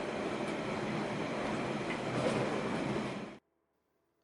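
Mainlander passenger train rolling on rails through the South Canterbury landscape in New Zealand, a steady, close, loud rumble of wheels and carriage noise that cuts off abruptly into silence near the end.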